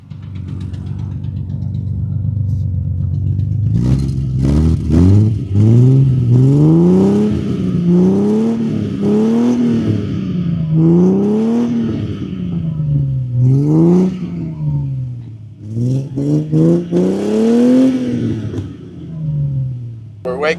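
A Ferrari once owned by an F1 driver revs while stationary, its engine rising and falling in repeated sharp blips between a rough idle, loud and close, with brief voices in between.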